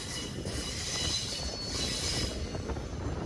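The Nagercoil–Kottayam Express rolls through a curve, its wheels grinding and squealing against the rails over a dense, steady rumble heard from on board.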